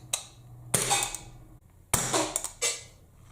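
A Gamo C15 CO2 blowback air pistol fires several sharp, close cracks, some followed by a rattling blowback clack. The shots are irregular with pauses between them, and the pistol is misfiring at times while its power drops.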